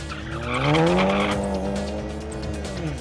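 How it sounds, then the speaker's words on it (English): Tyres squealing at a VW GTI club drag race at Tarlton Raceway, a loud sustained screech with a rising-then-falling pitched whine over a running car engine, with no talk. "As the tyre squealing continues"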